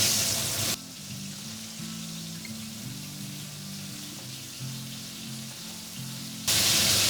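Pieces of chicken frying in oil over a medium flame hiss and crackle in a low, steady sizzle, with louder noise at the start and end, and no talking.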